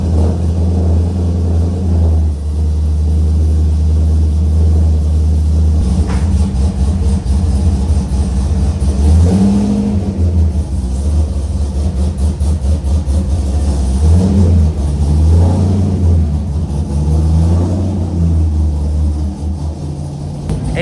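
A car engine cranks and starts, then idles roughly and revs up in several swells, a loud close rumble throughout with no one talking.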